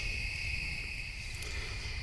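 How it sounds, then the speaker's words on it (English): Crickets chirp steadily through the night at a campsite, a continuous high-pitched trill with insect and tree-frog chorus, even and moderately near with no talking. "the night sounds are just wonderful. The cicadas and the crickets and the tree frogs."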